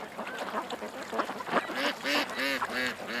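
Several ducks quack in quick, repeated bursts close below a hovering drone, the calls loud and overlapping with a steady drone hum behind them.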